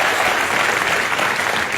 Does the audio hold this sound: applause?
yes